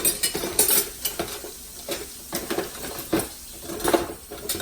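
Spoons clink and scrape against a Dutch oven holding roast beef and vegetable soup, with irregular close metallic knocks and short stirring strokes over a quiet simmer.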